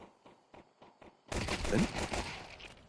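Counter-Strike 2 gunfire during a competitive grand final match: a few sharp, evenly spaced shots, then a dense, loud burst of rapid fire and action over the second half.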